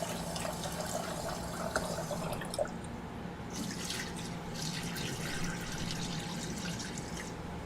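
Water runs and splashes into a bowl while sushi rice is rinsed, a steady trickling flow with occasional swishing and stirring sounds, close and moderately loud with no voices.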